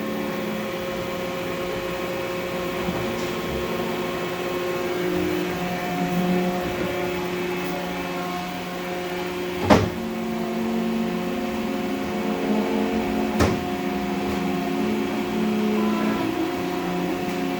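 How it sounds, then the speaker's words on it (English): Guards opening and closing on a Union BFT 105 CNC horizontal boring mill, two sharp clunks standing out over a steady low machine hum and drone in an otherwise quiet shop. "The only noise you're hearing is the opening and closing of the guards."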